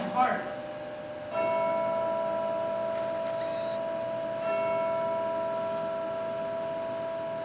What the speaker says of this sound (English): Listen, the church bell.